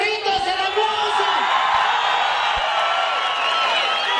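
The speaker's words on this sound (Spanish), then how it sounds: "¡Si quieren que ganen los chamarritos," A crowd at a live pub comedy show in Atlixco keeps up a steady roar of cheering and whooping, with a few claps scattered through the noise.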